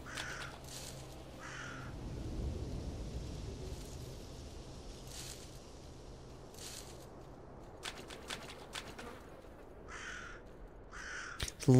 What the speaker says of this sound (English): the birds making noise.